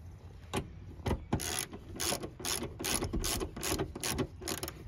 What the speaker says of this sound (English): Get our ratchet set up. We'll get the 2 bolts in the back.